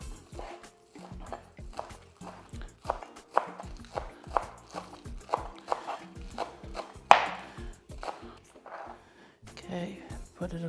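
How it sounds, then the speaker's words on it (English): A knife chops spring onions on a cutting board while making lomi lomi salmon. Quick, crisp strikes come close together in an uneven rhythm and stand out sharply against a quiet kitchen. "Then next up, I will cut our spring onion"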